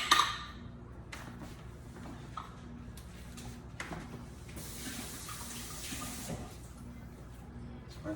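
Tap water runs into a kitchen sink while something is rinsed during cake preparation, a soft steady gush with a few light clinks, fairly faint and without talking.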